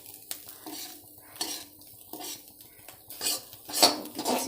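Fish roe spatters and pops in hot oil in a wok, with sharp crackling bursts mixed with metallic clinks and scraping of a utensil against the pan, uneven and close.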